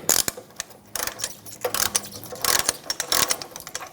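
A hand ratchet tightens nuts on a rear leveling kit of a 2014-2018 Chevrolet Silverado 1500, giving close, loud bursts of rapid metallic clicking in short strokes with brief pauses between them.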